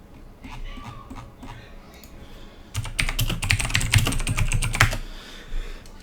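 Rapid typing on a computer keyboard during an online game lobby, light scattered taps giving way to a dense, loud burst of fast keystrokes in the middle, close to the microphone.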